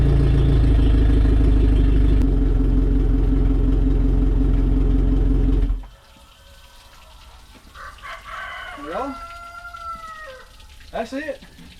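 Suzuki DF150 outboard engine running on flushing muffs during a 200-hour service, a loud, steady droning idle that cuts off abruptly, followed by a rooster crowing and clucking nearby.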